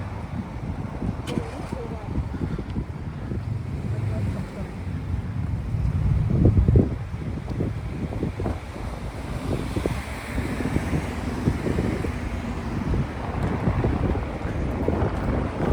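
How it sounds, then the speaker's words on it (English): Strong cold wind buffets the microphone outdoors beside the old city walls of York on a cloudy evening, a steady low rumble with gusts throughout. "Cloudy, a very, very cold wind."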